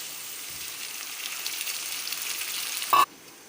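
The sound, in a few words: vegetables and tomatoes frying in a pan for poha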